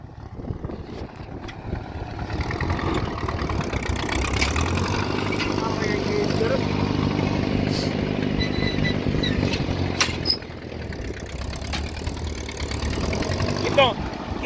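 An Allis Chalmers WD45 tractor engine running during tillage work, a steady low mechanical drone that builds and holds through the middle before easing off, heard at moderate distance with some wind-like noise.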